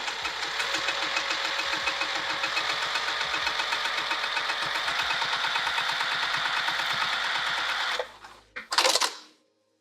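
A sewing machine top-stitches a bag seam in one steady, close, rapid run of stitching for about eight seconds, then stops, followed by a brief rustle of fabric.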